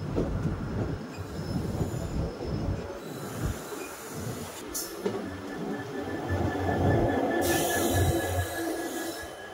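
A passenger train runs from Dullabcherra toward Guwahati, near Bandarkhal, where it crosses a goods train. A steady heavy rumble of wheels on rails fills the clip, with metallic squeals and a brief hiss, and no voices.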